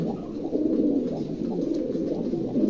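Two Andalusian pigeons coo steadily and close by, a soft continuous low murmur with no voices over it.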